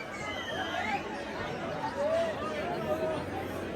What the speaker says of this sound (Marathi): आम्हाला किती गर्दी आहे